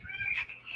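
A cat gives a short, quiet meow, a thin high-pitched call lasting under a second close to the microphone.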